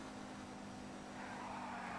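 A car in GTA V Online free roam driving and drifting, with a steady engine drone and a rising tire-squeal hiss, faint and continuous.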